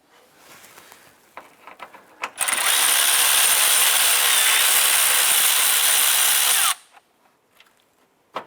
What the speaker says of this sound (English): Remove the two lower 10mm bolts.